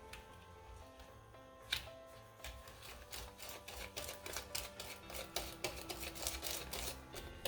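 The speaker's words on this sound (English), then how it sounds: "whisk all this together" Pecan pie filling with vanilla extract being whisked in a bowl, a run of quick, uneven scraping and tapping strokes that grow busier and denser partway through, close by with no talking.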